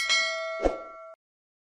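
A short bright ding with a metallic clang, ringing briefly before cutting off abruptly.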